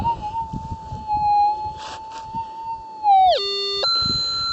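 A metal detector sweeping over a gold nugget holds a loud, steady electronic tone for about three seconds, then the pitch drops sharply and the signal shifts to a harsher, buzzier tone.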